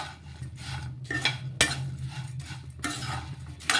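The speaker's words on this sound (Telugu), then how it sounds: "ఇలా వేసేసుకొని ఇదంతా కూడాను కలిసేలాగా కలిపేసుకోవాలి" Omelette pieces stirred into puffed rice in a pan, heard as rhythmic dry scraping and rustling strokes of a spoon against metal with a sharp clack partway through, close and fairly loud.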